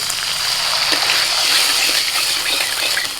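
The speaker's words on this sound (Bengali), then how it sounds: "মশলা কষানো হয়ে গেছে এবার একটু জল দিচ্ছি" Water poured into masala cooking in a pan, a loud continuous close gush that runs steadily for a few seconds before tapering off at the end.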